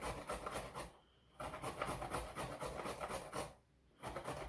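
Carrots are grated on a grate-and-measure grater above a bowl, giving a steady, close scraping rasp with repeated strokes and two short pauses.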